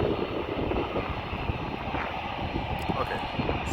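A passenger airliner taking off from runway 18L, the Aalsmeerbaan, at Amsterdam Airport gives a loud, steady broadband jet roar that holds evenly throughout.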